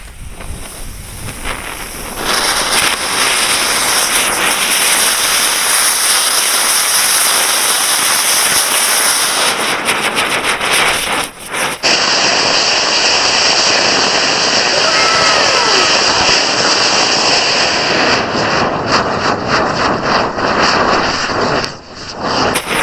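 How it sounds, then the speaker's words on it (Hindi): An anar chakri, a spinning fountain firecracker, burns with a loud, steady hiss and crackle that holds for over twenty seconds, broad and roaring like heavy rain or rushing wind, with one brief dip near the middle. "दोस्तों अब बारी है हमारे अनार वाली चक्री की"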